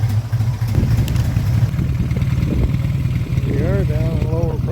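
A Yamaha XS650B motorcycle engine runs with a steady low rumble throughout, close and loud, while someone talks over it.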